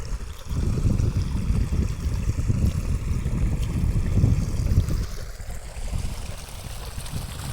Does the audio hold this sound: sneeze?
no